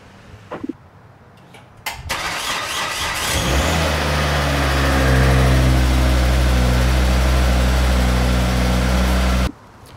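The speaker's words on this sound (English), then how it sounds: "first I will start the car so you guys can see what it sounds like" A Volvo C30 engine cranks with a few short starter bursts, then catches and settles into a steady, loud idle hum that holds for several seconds before cutting off abruptly.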